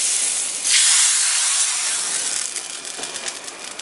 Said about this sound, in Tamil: இப்போதான் லேசாக கொதிக்க ஆரம்பிக்குது